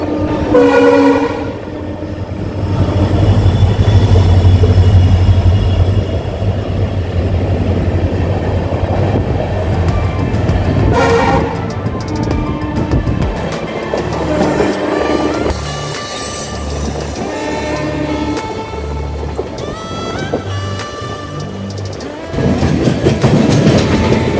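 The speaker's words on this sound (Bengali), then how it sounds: "আমাদের ট্রেন সাঁতরাগাছি জংশন ক্রস করছে" A passenger train on the Howrah–Ranchi route runs through Santragachi junction, loud and close, with a long sustained horn blast, steady rumbling roll and rhythmic clickety-clack of wheels over rail joints, no talk.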